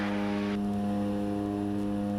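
A Diamond light airplane back taxiing on a runway, its propeller engine holding a steady, loud drone with strong tonal harmonics throughout, with a brief burst of wider noise at the very start and no voices over it.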